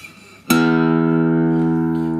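A Taylor A12 acoustic guitar is struck once after a short quiet lead-in. Its bright chord rings out loud and close, then sustains evenly as the strings decay slowly.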